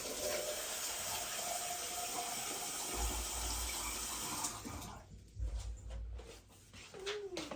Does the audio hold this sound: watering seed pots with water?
yes